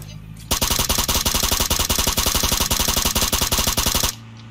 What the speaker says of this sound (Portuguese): Dei uns tiros nele.